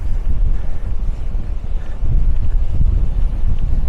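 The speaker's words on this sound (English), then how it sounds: "it's too windy out there." Strong wind buffeting a microphone outdoors at a landscape photography location, a loud continuous low roar with gusty surges and no talking.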